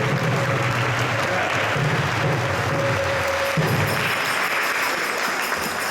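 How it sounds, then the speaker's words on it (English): Audience applause at a Rathayatra havan gathering in Toronto, a dense steady wash of many clapping hands that stays loud throughout, with a faint tonal hum running underneath. "Let's give one big round of applause."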